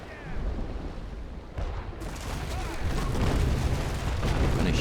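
Broadside cannon fire from sailing warships in the naval combat game Naval Action, a continuous barrage of heavy booms and rumbling blasts building in loudness across the stretch.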